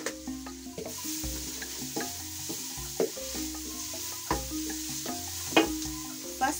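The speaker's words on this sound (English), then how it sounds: "First, remember we start by cooking our onions." Onions cook in a pot over a village fire with added salt, giving a steady soft sizzle and scattered stirring scrapes and clinks, close and continuous, with sustained tones running underneath.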